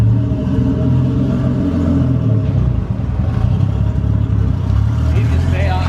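A Nissan 240SX engine revs hard with heavy throttle and clutch, a loud, steady low rumble and clatter that holds throughout, close up and dominating, with voices around it.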